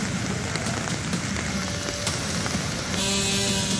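Heavy rain pouring during a storm in Medinipur, a dense, steady roar of falling water that swells slightly louder near the end.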